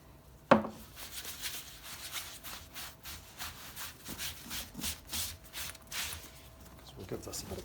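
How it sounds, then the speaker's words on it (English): Sandpaper scuffing the painted repair on a dog-chewed leather boot in uneven rubbing strokes after a sharp knock, quiet and close. "Gives that a bit of a sand off."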